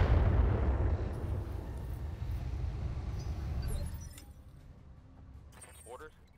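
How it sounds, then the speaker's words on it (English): Missiles exploding in the BattleTech video game, a heavy booming blast that rolls and decays over several seconds, followed by quieter debris-like clinks and a faint whine near the end. "These locusts piss me off, man. Yep. Let's just keep firing missiles at me."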